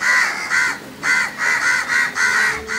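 A crow caws repeatedly, about six loud, harsh calls in a steady rhythm with brief gaps between them, close and clear with no other sound around them.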